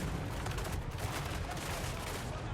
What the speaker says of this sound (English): you're gonna go right into gunfire